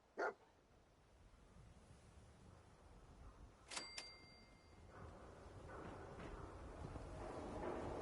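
A dog companion in Fallout 4 gives a short bark near the start, followed by a few electronic game interface blips and a gradually rising ambient game background.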